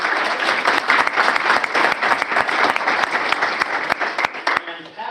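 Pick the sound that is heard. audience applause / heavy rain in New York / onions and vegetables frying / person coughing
audience applause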